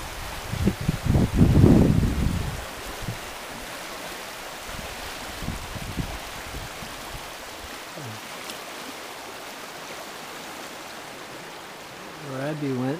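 Icy river water flowing in early spring, a steady broadband rush with a heavy low rumble and knocking in the first two seconds, then a constant wash, with a brief tonal sound near the end.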